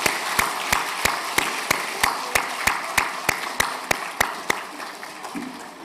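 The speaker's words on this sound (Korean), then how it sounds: "다시 한번 박수로 축복하겠습니다" A church congregation at a Christmas service claps together in a steady, evenly spaced rhythm, each clap crisp and regular over a low room murmur, with no talking.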